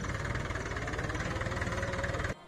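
A tractor hitched to a trolley runs in low reverse gear, its engine chugging in a steady, rapid, knocking rhythm close to the microphone, then cutting off abruptly near the end.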